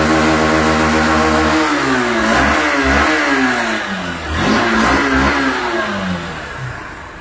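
A Honda Unicorn motorcycle engine is revved hard to full throttle close by, loud and continuous, its pitch repeatedly climbing and falling as the throttle is opened and eased.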